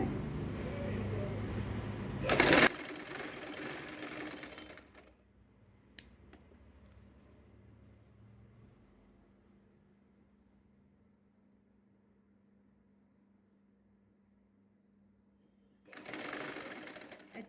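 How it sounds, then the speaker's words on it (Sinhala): A sewing machine stitches a saree blouse in close, loud bursts at the start and again at the end, with quiet handling between. "ඒ වගේ අපි අනිත් පැත්තත් මහනවා"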